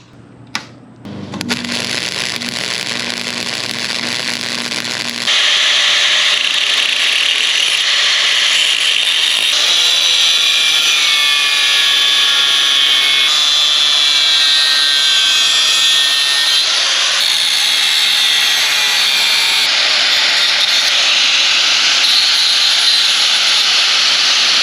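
A cutting tool cuts an angle into 2x3 steel tube, starting after a sharp click with a steady high whine that grows louder after a few seconds and holds for a long, sustained stretch.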